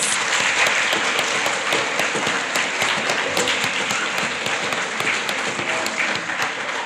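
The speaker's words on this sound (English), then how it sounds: "give them a big round of applause" Sustained audience applause at a primary school Grade 7 prize giving ceremony, a dense wash of many hands clapping steadily and loudly throughout with no voices standing out.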